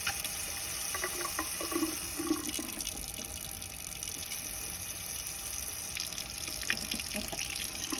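Tap water runs steadily into a sink for handwashing, a continuous broadband splash at moderate level with no talk over it.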